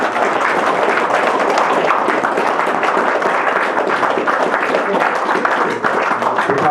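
Audience giving a major round of applause, dense sustained clapping from many hands, loud and continuous throughout with no pause.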